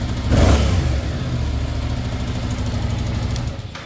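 A 2023 Yamaha R7 parallel-twin motorcycle engine revs up sharply and then settles into a steady, rumbling, throbbing run, loud and close, with no talking.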